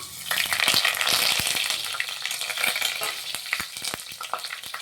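Whole spices hitting hot oil for chicken biryani, a loud burst of crackling sizzle that settles into steady popping and spitting with scattered sharp crackles, close and without voices.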